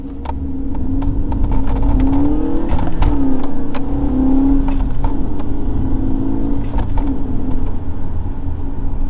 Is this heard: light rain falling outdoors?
no